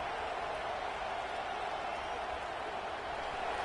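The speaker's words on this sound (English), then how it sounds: "This crowd, full throat, splitting the eardrums and letting them know it's going to be a long day." A packed stadium crowd in the College Football 26 video game gives a loud, steady roar that holds at full volume without a break for the whole stretch.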